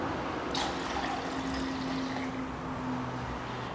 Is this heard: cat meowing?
no